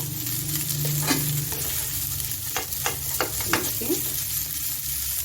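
Green chillies are stirred in a frying pan with spices for bread cone samosa filling, making a steady sizzle under repeated scraping strokes of a spoon, close and fairly loud.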